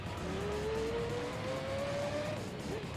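Race car engine in Gran Turismo 3, LMP Dragon, droning steadily with a rising whine as it accelerates, then a brief drop in pitch, continuous and close up.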